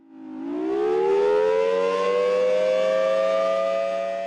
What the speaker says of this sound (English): We don't run the siren on a regular basis.